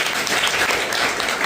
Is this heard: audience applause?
yes